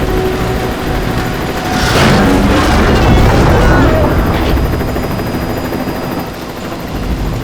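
Loud helicopter rotor thudding nearby in an action disaster scene, continuous and swelling in the middle, mixed with bursts of noise and shouted voices.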